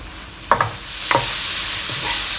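Thai olive fried rice mixture stir-fried with white pepper in a hot pan, a constant sizzle broken by a few sharp scraping strokes of the spatula, close and loud with no talking.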